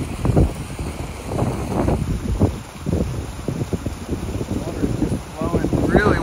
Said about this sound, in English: I know it's really windy. Storms are brewing.